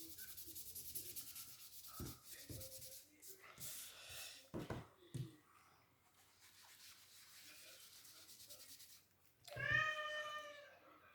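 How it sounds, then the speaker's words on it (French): A cat meows loudly and clearly near the end, after scattered rubbing and scraping noises and soft background murmur. "maintenant c'est le chat"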